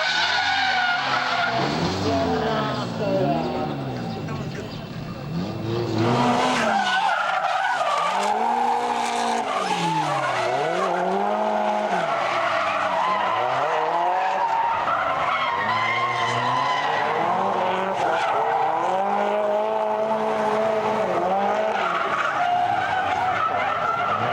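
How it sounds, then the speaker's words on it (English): Cars drift through a fast corner at a motorsport event. Tires squeal loudly and continuously over revving, rising and falling engines, and the sound stays dense and close throughout with no talk. "The fast corner always supplies the most spectacular drifts and the most spectacular stuff-ups."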